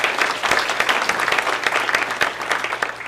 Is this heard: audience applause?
yes